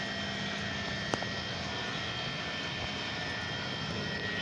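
A rewound 48 volt 1200 watt electric motor running at speed on old bearings gives a steady whirring drone with a constant high whine, even and unbroken apart from one brief click.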